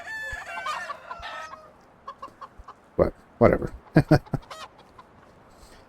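Video game hens cluck and squawk in uneven bursts, with a rooster-like call early on and a brief spoken remark among the clucks.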